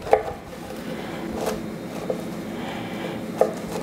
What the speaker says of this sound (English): grab your knife and take your slices this way